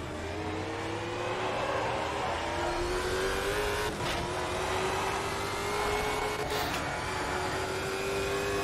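Stock car from the Stock Car Brasil 2020 season racing at Hockenheimring in Automobilista 2, its engine droning steadily and rising in pitch as it accelerates, with tire noise on the track, loud and continuous throughout with no talking.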